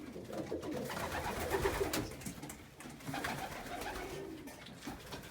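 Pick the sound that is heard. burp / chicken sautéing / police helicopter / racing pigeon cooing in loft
racing pigeon cooing in loft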